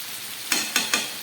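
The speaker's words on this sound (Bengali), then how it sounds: "এবার দিয়ে দিচ্ছি 1 চামচ ঘি।" Ghee hits a hot pan of spiced mutton, giving three quick, close, bright sizzling bursts over a faint steady hiss.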